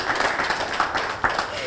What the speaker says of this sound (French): Public, applaudissez,